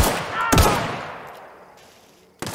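Gunfire from the video game The Outer Worlds, shooting at an enemy: a sharp loud shot then a long fading echo, with another abrupt shot at the end.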